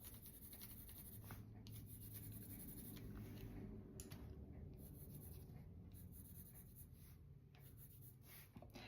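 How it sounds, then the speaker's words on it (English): Steady scratchy scribbling of a watercolor pencil on paper, continuous back-and-forth strokes, close and fairly quiet, with no voices. "I'm just going to scribble some lines in there."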